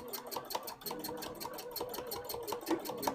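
A home sewing machine stitches fabric for a piece of sewing-machine art, running in a steady rapid mechanical patter throughout, close and moderately loud with no talk over it.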